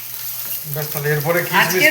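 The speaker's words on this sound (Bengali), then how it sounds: "এবার ডিমটা দিয়ে দিলাম ডিমের ঝুরঝুরি করে নেবো" Egg sizzles and is stirred in a hot pan while being scrambled for egg paneer fried rice, a steady frying hiss under a voice speaking throughout.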